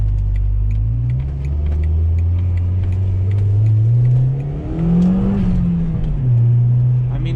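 Cars passing on a road beside an Audi A4 being worked on outside, a loud engine rumble rising and falling as vehicles drive close by, one after another.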